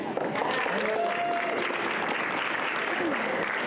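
Applause from a school district faculty audience, a short burst of clapping from a modest crowd with voices and chatter mixed through it, fairly close.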